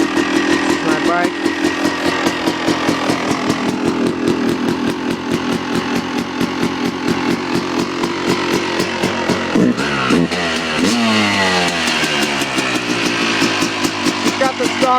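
A Yamaha YZ250 two-stroke dirt bike with its stock pipe starts from cold and settles into a loud, crackling, rapid-fire idle up close, with a few sharp throttle blips near the end.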